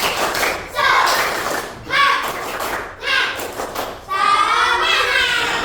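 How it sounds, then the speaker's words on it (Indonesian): Schoolchildren in a classroom perform a rhythmic 'tepuk semangat' clapping chant, with bursts of claps and thuds in a patterned rhythm mixed with their chanting voices, repeated in several short phrases. "Bapak pengen tahu dulu, tepuk semangat."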